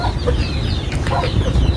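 Asil chickens, kept as pet fowl, clucking steadily and close by, with faint bird calls and low rustling throughout.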